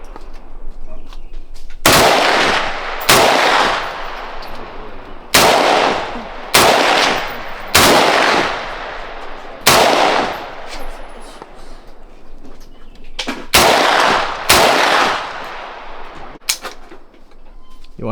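An IWI Galil ACE Gen 2 rifle chambered in 7.62x39 fires about a dozen loud, sharp shots outdoors at irregular intervals, some in quick pairs, each with a short echoing tail.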